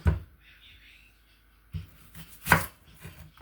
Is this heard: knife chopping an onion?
yes